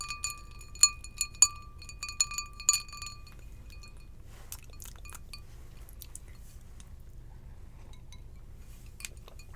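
A finger dips into a drink in a glass, giving several bright clinks and small wet taps close up in the first few seconds, then faint scattered ticks over a low hum.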